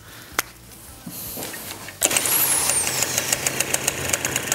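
A Derbi GP1 scooter engine kicks into running after a couple of short attempts, then idles close by with an uneven, stuttering beat of misfires and no talk.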